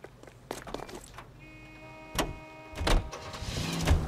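A 1940s car in L.A. Noire takes a door thump and shuffling as someone gets in, then a whirring hum and the engine revving up as it pulls away, close and fairly quiet.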